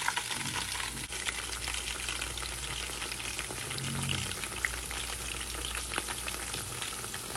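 Chicken pakoras deep-frying in oil over low to medium heat, a steady dense crackling sizzle that runs unbroken throughout, close and moderately loud with a brief bubbling swell midway.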